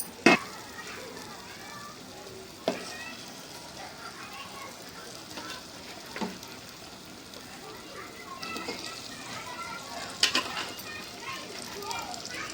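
Paneer dropped into a roasted, oil-separated onion-tomato gravy in a pan for a Malvani paneer dish, giving a soft continuous sizzle with a few sharper clinks and stirring sounds.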